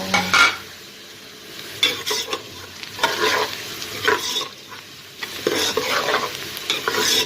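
Ginger, garlic and tomato are stirred into sizzling masala in a home kitchen, with repeated scraping strokes of a spoon against the pan over a steady close fry and no talking.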